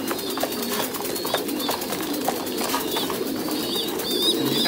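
Thai Titan pigeons coo in a breeding loft where parent pairs raise squabs, soft repeated coos layered over a constant flock murmur with scattered chirps and a faint wing flutter.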